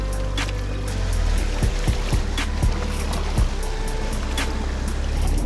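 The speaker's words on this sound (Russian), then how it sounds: "Сзади катер нас догоняет прогулочный." A pleasure motorboat's engine drones steadily at low pitch as it approaches from behind a kayak, mixed with water splashing against a hull and a few sharp knocks.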